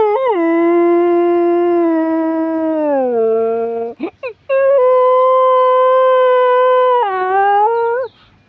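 A person imitates a dog howling, holding long wavering vocal howls that slide down in pitch, with a short break of breathy yips before a second sustained howl.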